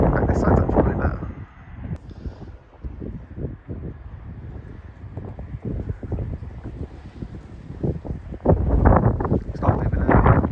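Strong wind buffeting the microphone on a railway bridge, loud rumbling gusts that swell and fade, heaviest at the start and end, with a person speaking intermittently.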